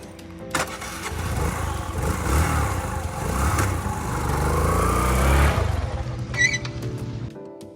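A motorcycle engine starts and revs up, then runs steadily close by as the ride gets under way in Costa Rica's Perez Zeledon area, the throaty rumble rising and falling before cutting off near the end.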